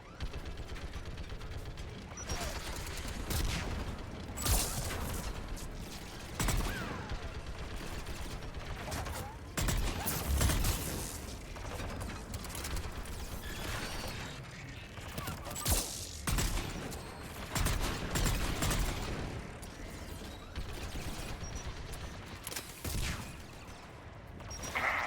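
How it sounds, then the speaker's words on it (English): Geth turrets firing in the video game Mass Effect 3, bursts of rapid synthetic gunfire and mechanical clatter repeating across the stretch at moderate loudness. "Geth turrets!"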